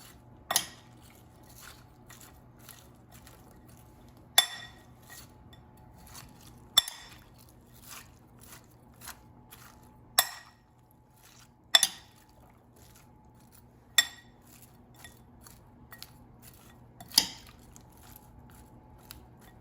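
Sliced red onions being tossed with lime juice, vinegar and seasonings for Mexican pickled onions, soft wet squishes and occasional clicks of a utensil against a bowl, spaced out and fairly quiet over a faint steady hum.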